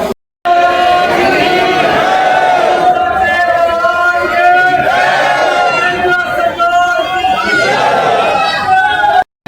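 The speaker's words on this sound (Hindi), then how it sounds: "ये देखो भीड़।" Dense crowd of temple visitors chattering in a zigzag queue at Mehndipur Balaji Dham, many overlapping voices in a steady, close, continuous murmur throughout.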